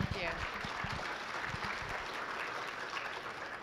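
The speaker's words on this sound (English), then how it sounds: "So big round of applause for Dr. Heidi Brocious and Morgan Erisman." A lunch plenary audience gives a round of applause for two presenters, steady clapping at moderate distance with a faint voice over it.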